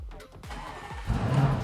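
Lamborghini Urus engine cranking and firing up, a few low thumps giving way to a loud, rumbling idle that swells near the end, heard up close with no talk.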